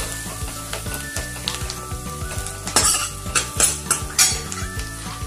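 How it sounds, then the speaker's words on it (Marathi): A small amount of finely chopped coriander sautéed in a pan for Maharashtrian matki rassa bhaji, with steady sizzling and frying crackle, repeated scrapes and clinks of a spoon stirring against the pan, and louder bursts of sizzle toward the end. "बारीक चिरलेली थोडीशी कोथिंबीर, चांगलं परतून घ्यायचं।"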